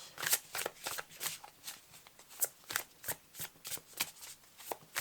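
Oracle cards from the La Voix des âmes deck being shuffled by hand, a steady run of close, crisp riffling slaps and flicks repeating roughly twice a second, with no talk over them.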